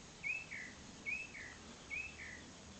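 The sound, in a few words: birds chirping in the garden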